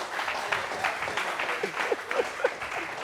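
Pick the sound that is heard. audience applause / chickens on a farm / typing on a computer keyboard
audience applause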